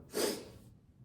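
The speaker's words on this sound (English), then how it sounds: "sorry if I'm sniffling a lot" A single close, breathy sniffle through the nose from a person who just woke up, a short airy rush that fades within a second in a quiet room.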